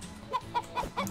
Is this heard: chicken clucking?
yes